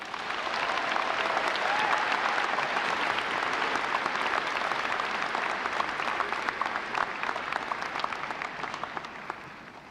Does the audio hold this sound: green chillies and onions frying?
no